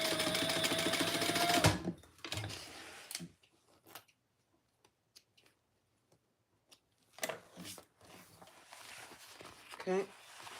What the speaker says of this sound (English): flip this to the wrong side and we're gonna stitch these together